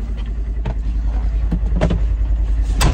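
A 2024 Polaris Xpedition XP 1000 side-by-side rumbles from inside the cabin, with a steady low engine drone and a few brief clicks and knocks as it starts driving.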